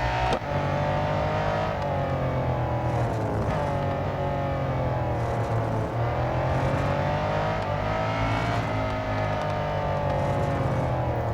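A Lamborghini Diablo SV race car engine in the Real Racing 3 video game roars continuously at high revs, pitch rising and dipping with gear changes, loud and sustained with no talking.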